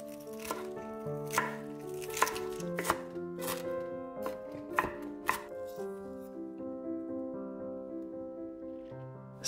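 A knife chopping Chinese celery on a board: a run of sharp, irregular cuts, close and fairly quiet, with ringing tones between strokes and no talk.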